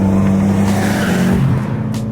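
A Subaru WRX with a loud, throaty Greddy Ti-C exhaust roars past at close range, its engine note droning steadily before fading slightly.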